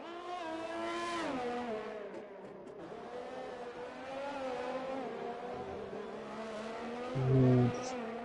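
Race cars in the Live for Speed sim racing game, Azerbaijan Grand Prix round, engines whining through rising and falling revs around turns 3 and 4. Steady loud engine tone, with a brief low thump near the end.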